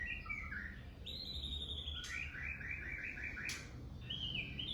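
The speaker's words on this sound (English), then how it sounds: "Can you hear that bird?" A bird in Ubud, Bali calls with repeated bright chirps and warbling trills, fairly close and clear against a quiet, even background, with no talking.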